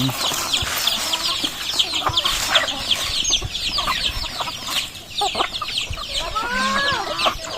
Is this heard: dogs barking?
no